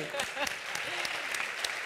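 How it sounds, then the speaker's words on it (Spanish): Brief, distant applause from a conference audience at a GPTW Conference Chile panel, a soft steady patter with voices talking over it. "Un aplauso."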